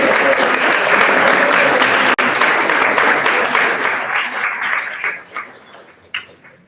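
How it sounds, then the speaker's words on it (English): Audience at an NFT event in Barcelona's Akasha Hub gives Violeta a loud, full round of applause that holds steady, then thins out into scattered claps and fades. "Can we give one more round of applause to Violeta for taking it?"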